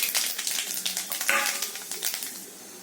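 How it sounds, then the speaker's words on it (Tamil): Mustard seeds, chana dal and urad dal crackle and sputter in hot oil, a close, busy run of sharp pops and sizzling bursts that gradually thins out toward the end. "எண்ணெய் காயுது. இதில் கடுகு பருப்பு, கொஞ்சோண்டு கடலைப்பருப்பு, உளுந்தம் பருப்பு,"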